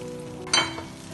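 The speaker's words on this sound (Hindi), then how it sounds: "ये अंडा को मैंने इस तरह फ्राई कर लिया है" An egg fries in a pan for Peshawari chapli kabab, a soft steady sizzle with a brief louder hiss burst midway, close by and without talk.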